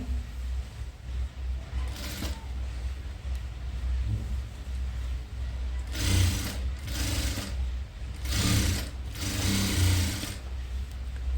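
A sewing machine runs a loose basting stitch on a long frilled dress, with a steady whir under a background hum and several short louder bursts of stitching near the end, no talk.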